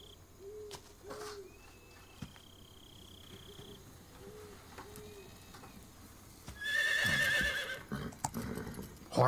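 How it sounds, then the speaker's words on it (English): Metal Gear Solid 3 game audio with soft hoof clops and a brief horse snort early on, then a louder burst of rustling and a whinny-like call near the end. "Did I just hear a horse?"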